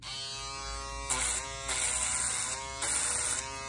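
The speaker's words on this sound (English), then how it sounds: "the hair will go into those little holes and shave it down and like to skin" Electric shaver buzzing steadily close up as it shaves hair down to the skin, with a constant whine that swells louder in three bursts as the head presses against the hair.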